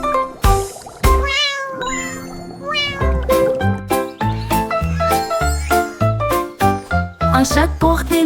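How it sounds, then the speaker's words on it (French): A cat meows repeatedly over a bright children's song with tinkling, chiming accompaniment, each meow clear and close in the mix. "puis laissa échapper un miaulement"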